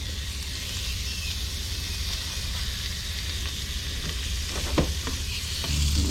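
Catfish frying in grease left from earlier cooking gives a close, continuous loud sizzle and crackle, with a few small pops and stirring noises and no talking.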